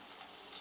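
A little water pours from a container into ground turmeric, chili, cumin and Kashmiri chili powder, a short, soft, hissing splash close by with no voices.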